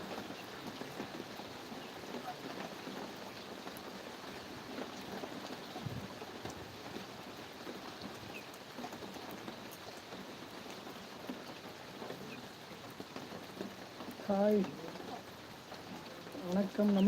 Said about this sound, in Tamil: பின்னாடி மழை பெய்யுது உங்களுக்கு காட்டலாமா